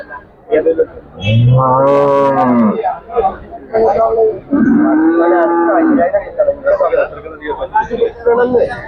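Dairy cows and buffalo at the Chattiparamba cattle market let out two long, loud moos close by, separated by a short pause, over the busy murmur and clatter of the market.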